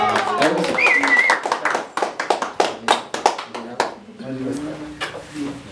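Sharp, separate hand claps ring out at a birthday party with a mariachi band, coming in an uneven rhythm through the middle of the clip, with voices talking before and after.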